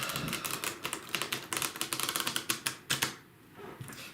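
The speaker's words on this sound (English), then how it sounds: "it just feels right to take a breath every time I do a shuffle" A deck of playing cards riffled and shuffled up close, giving a fast run of crisp papery flicks and snaps that speeds up, ends in a few sharp taps, then falls quiet.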